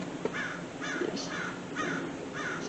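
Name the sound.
crows cawing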